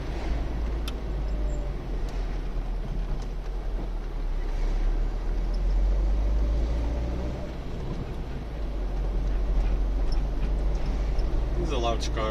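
A large Citroën XM car driving through a village, heard from inside as a steady low road rumble and engine hum with some wind noise, continuous throughout.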